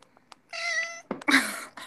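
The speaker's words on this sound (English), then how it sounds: "There's a cat up there." A cat meows nearby, one drawn-out plaintive meow followed by a louder, harsher cry, with a few soft clicks and rustles around them.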